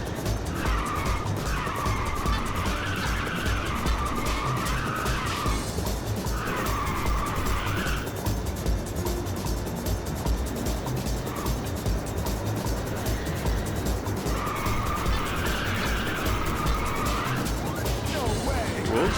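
Race cars in the PSP video game Ridge Racer, a constant engine whine with repeated long tire skid squeals during drifts, while a person talks over the game sound.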